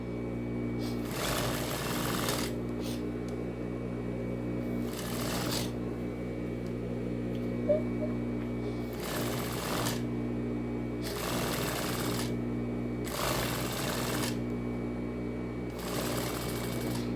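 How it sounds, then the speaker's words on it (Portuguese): A sewing machine runs steadily, stitching the seam of a tailored women's vest with a constant close motor hum, and faint scraping bursts of fabric handling recur at regular intervals. "E vou unir aqui com uma costura de 1 centímetro."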